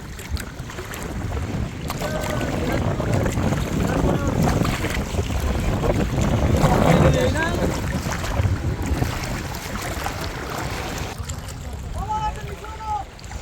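A boat travels along a river past a moored trawler, with a continuous engine-and-water rumble mixed with wind buffeting on the microphone, and people talk faintly in the background.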